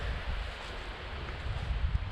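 Wind gusting on a windy night at a backcountry campsite along the Cohos Trail near Lake Francis, a steady low rushing roar with rumbling buffets, close and moderately loud, no voices.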